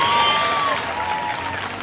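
Applause from the audience at a three-day youth festival in Mirpur, a dense, steady patter of many hands clapping that fades slightly toward the end, with a sustained voice over the clapping.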